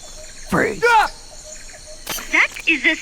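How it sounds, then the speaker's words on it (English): House wren song from the video game Metal Gear Solid: Peace Walker, heard as two short bursts of bright, rapid warbling trills. A second pair of chattering phrases follows after a pause, played alone at moderate loudness. "That is the sound of the house wren."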